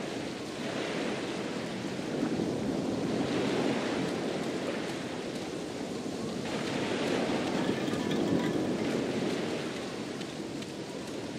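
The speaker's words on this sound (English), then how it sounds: "It's at least 50 feet down, given the reverberation of the waves." Waves surging below a lighthouse cliff in the game Black Mirror, a steady rolling wash of surf with slow swells in loudness, distant and reverberant with no voices.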